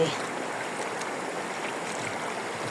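A mountain waterfall stream in Suldtal, Aeschiried, Switzerland, gives a steady broadband rush of flowing water, even and moderately loud throughout, with no distinct breaks.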